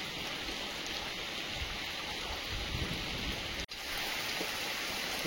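Heavy rain pouring steadily outdoors, a dense unbroken hiss of falling water with one brief dip near the end, no talking.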